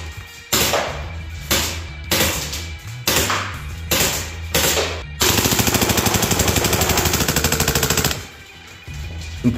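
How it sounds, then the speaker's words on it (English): A B&T GHM9-G gas blowback SMG fires loud and close: several short bursts of sharp snapping shots, then one long rapid full-auto string of evenly spaced cracks before it stops. "let's lock and load it and see what sort of power and fire rate we're getting with this thing"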